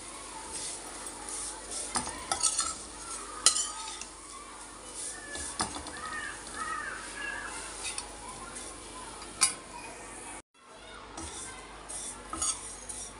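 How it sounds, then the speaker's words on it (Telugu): Wheat vermicelli frying in a spoonful of ghee in a pan, a soft steady sizzle broken by repeated scraping and clinking stirs of a spoon against the metal, close and fairly quiet. "సేమియాలు వేయించుకున్నాం. ఇవి గోధుమ పిండితో చేసిన సేమియాలండి."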